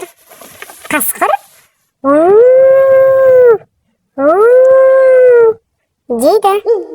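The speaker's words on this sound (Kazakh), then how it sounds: "Бұл қасқыр, қасқыр" A wolf gives two long, steady howls, each rising at the start and holding a clear pitch, close and loud with a short gap between them.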